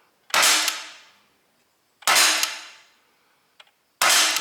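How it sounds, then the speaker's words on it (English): A Hellboy CO2 .177 air pistol's pellets strike a metal catch target: three loud, sharp metallic impacts about two seconds apart, each ringing and fading, with a faint click between the second and third. "The sound of the target is different because this is the metal one that catches them in the bottom."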